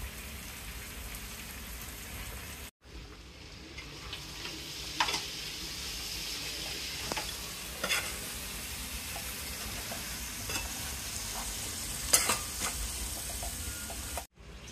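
Grated coconut fries in a pan for a country chicken curry, giving a steady close sizzle with occasional scraping stirs and brief clicks, and no voices over it.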